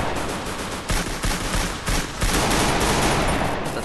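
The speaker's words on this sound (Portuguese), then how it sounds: "Nossa, um tiro." Gunfire in the video game Free Fire rings out as rapid bursts of loud, sharp shots over a constant dense game soundscape, with several distinct cracks clustered together.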